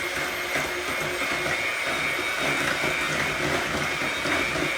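Steady whirring hum of an electric mixer beating egg roll in a bowl ingredients, a continuous loud motorized drone without breaks across the whole stretch.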